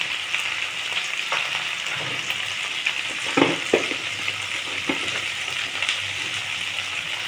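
Turmeric frying in a pan with pumpkin and okra, a steady moderate sizzle broken by a few soft knocks and scrapes from stirring.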